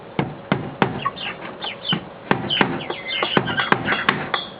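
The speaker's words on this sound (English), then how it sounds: "Get along, little chicken." Several chickens cluck and squawk in a run of short, sharp calls with a few hard taps, close by and fairly loud while a farm bird is herded outdoors.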